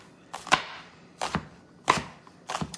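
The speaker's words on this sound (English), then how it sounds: "chop them up, Mark" Vegetables are chopped with a knife on a board for queso dip, four separate sharp, close cuts spaced irregularly apart, with no talk.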